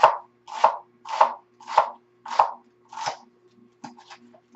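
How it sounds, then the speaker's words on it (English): A knife chops chicken into small pieces on a board: six steady, evenly spaced strikes, then a few lighter, quicker taps, close and clear with no talk. "I'm going to cut it into fairly small pieces"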